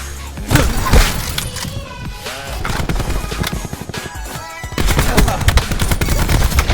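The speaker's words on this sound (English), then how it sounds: "That's a shotgun." Video game gunfire, including shotgun blasts, cracks in rapid repeated bursts, loud and close against busy in-game noise.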